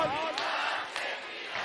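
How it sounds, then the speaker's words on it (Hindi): A rally crowd at Jantar Mantar in Delhi shouts an anti-corruption slogan in unison, a brief burst of massed voices with rhythmic clapping peaks, moderately distant and echoing. "एक बार दोनों हाथ उठ के ताली बजाते हुए नारा लगना चाहिए"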